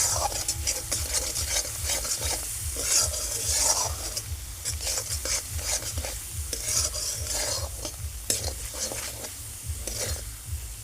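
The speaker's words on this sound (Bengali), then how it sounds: "লবণটা দিয়ে মশলাটা একটু ভালোভাবে নেড়ে নেব।" Masala with salt is stirred as it fries in a pan for egg pepper fry, with a close, rhythmic scraping of a spatula over a continuous sizzle and occasional clinks of metal.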